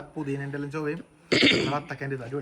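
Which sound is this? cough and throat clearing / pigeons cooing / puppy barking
cough and throat clearing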